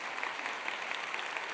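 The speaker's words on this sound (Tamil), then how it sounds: "நல்ல ஒரு அரங்கு நிறைந்த கைத்தட்டு" Audience clapping fills a packed hall at a Pongal special debate event, steady dense applause for the whole short stretch with no voices.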